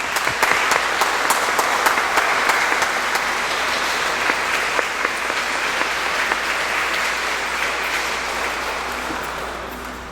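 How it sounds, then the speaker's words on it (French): A church congregation at Sunday Mass claps for children at their baptism, a full and sustained wash of many hands that stays loud for about ten seconds and eases slightly toward the end. "Alors, nous pouvons les applaudir."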